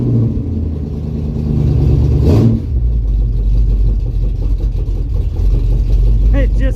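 A car engine fitted with a new Holley double pumper carburetor idles with a loud, steady, low rumble, close by, with a brief rise in tone early on.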